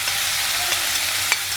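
Rice and dal sizzling in hot oil with onion and cumin, a steady bright frying hiss with faint stirring scrapes, heard up close and without talk.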